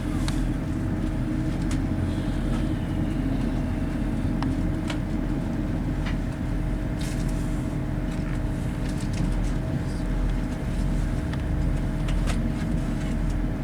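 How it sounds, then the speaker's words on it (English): A steady, dense rumble of a passenger train pulling out of Leeds fills the cabin, with faint clicks and knocks scattered over the constant drone. "Now these trains are very similar to the Nova ones, just leaving Leeds now."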